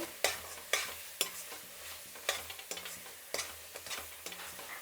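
Masala paste fries in oil for a coconut pulihora, quiet close sizzling punctuated by regular scraping strokes of a spoon, about one every second.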